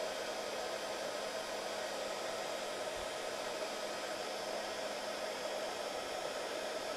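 Heat tool blowing hot air steadily onto a card dusted with embossing powder, a constant close whooshing hiss with a faint hum, unbroken and without talk.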